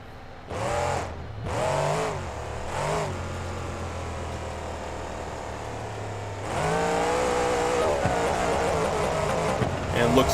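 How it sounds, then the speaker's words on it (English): A monster truck engine in the BeamNG video game revs and accelerates with a steady droning hum that rises and strengthens toward the end, while someone talks over it in the first half. "truck seems to have some good acceleration"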